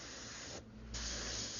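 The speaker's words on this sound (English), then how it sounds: "When I'm airbrushing like that, I can see it." Steady, close hiss of an airbrush spraying paint at an angle, a continuous airy spray that briefly dips and then resumes slightly louder.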